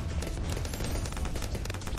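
A sniper monkey firing rapidly in Bloons TD 6, a dense, continuous stream of quick shots at moderate volume, with no talk.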